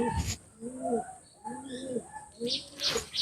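Pigeons in a loft coo softly in repeated low phrases, with faint chirps and some background noise mixed in.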